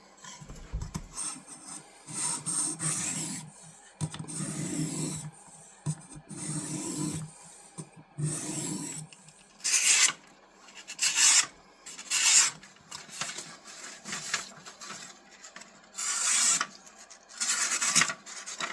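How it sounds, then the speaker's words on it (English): A vintage camp knife is sharpened on an 800 grit stone, with rhythmic raspy strokes that come in bursts, close and clear, with short pauses between passes. "So let's sharpen them up. These are fairly sharp already. I'm going to try with just 800 grit and see how we do."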